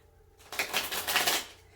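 A quick burst of tarot card shuffling, a dense papery riffle lasting about a second, close and fairly quiet.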